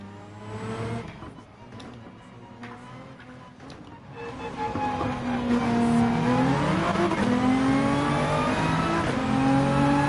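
Nissan GT-R race car in Gran Turismo 7, its engine droning steadily then rising in pitch as it accelerates and revs, growing louder and holding a strong harmonic whine through the second half, with no talk over it.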